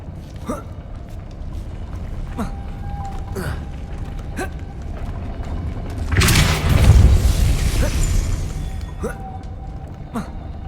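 A Depulso spell cast in Hogwarts Legacy releases a sudden loud whooshing burst with a rumbling low thud, then a fading rush, set against a steady mechanical ambience with occasional creaks.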